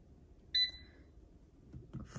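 An air fryer's control panel gives one short, bright electronic beep while being set, followed by quiet kitchen noises.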